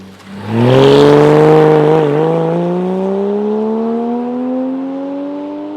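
A Porsche Cayman 987.1 S with an aftermarket exhaust revs up and holds a steady, droning engine note that climbs slowly in pitch over several seconds, close and loud with no talking.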